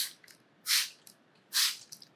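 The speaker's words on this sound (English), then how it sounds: "Spray lightly, very important to spray lightly." Two short, soft hisses from a spray bottle misting luminol at a crime scene, each burst about a quarter second long and evenly spaced, with faint handling noise between them.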